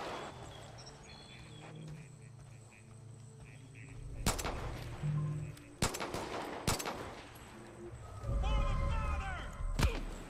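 Gunfire in Far Cry 5, with several sharp, loud shots spaced a second or two apart over a low outdoor ambience. A voice speaks near the end.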